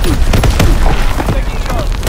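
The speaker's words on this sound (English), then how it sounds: "Incoming enemy artillery." Artillery explosions in the Call of Duty: WWII multiplayer game, a dense run of loud booming blasts and crackling impacts packed close together, with announcer-style game voice lines mixed in.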